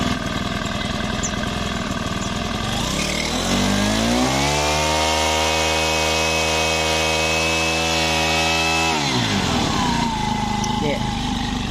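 A used Makita 35cc brush cutter engine idles, then revs up to a high steady whine for several seconds before dropping back to idle, loud and close with no talk.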